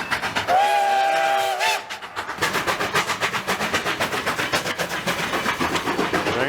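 A Durango and Silverton open-car tourist train passes: a loud whistle blast sounds first, then a steady rhythmic clickety-clack of wheels over rail joints rolls on close by.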